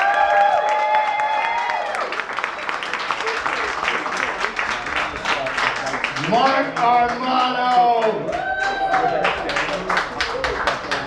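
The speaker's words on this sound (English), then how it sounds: "Thank you guys for cheering when I say the name" A live comedy crowd at a liquor lounge bar cheers and applauds steadily throughout, the dense clapping and shouts mixed with a voice talking over the noise.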